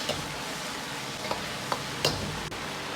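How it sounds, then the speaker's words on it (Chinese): Steady close sizzle of sauce stir-frying with dried chilies in a hot wok, broken by a few soft clicks and scrapes of the spatula. "稍微多翻炒下，把酱汁炒出香味"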